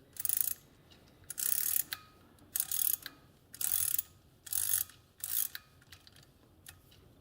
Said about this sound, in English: I'm going to continue now the process of tightening everything together